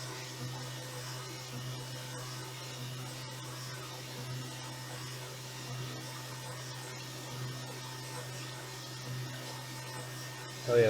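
CNC mill surfacing a titanium keycap with a ball end mill, a steady faint whirring hum with light cutting chatter throughout, no talk over it.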